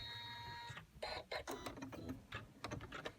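A Janome embroidery machine stitching out a design, a fast rhythmic mechanical clatter that carries on steadily throughout, close and fairly quiet.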